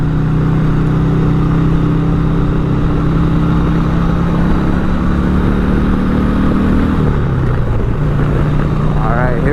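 A 1988 Harley-Davidson Sportster XLH 1200 engine pulls loud and steady under acceleration while riding, with a dense continuous drone and wind roar that shifts pitch near the end as the rider changes gear.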